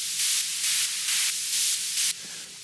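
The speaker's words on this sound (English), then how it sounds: "To create these, I always use filtered noise." Filtered white noise on a Dirtywave M8 tracker, high-passed with heavy delay and reverb, pulses in even bursts of hiss about twice a second, then drops to a quieter tail near the end.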